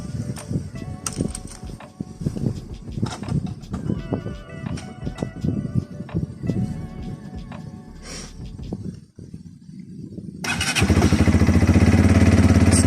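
A Lexmoto LXR 125 motorcycle is started after some handling noises and clicks, then the engine catches and runs loudly and steadily at close range.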